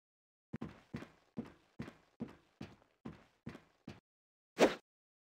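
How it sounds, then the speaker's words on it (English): A video game character striking a training dummy with a knife gives eight evenly spaced dull thunks, then a louder final hit after a short pause, crisp and close on a silent background. "Right-click on the dummy at Training Station 3, and Rex will walk up to it and attack it with the knife."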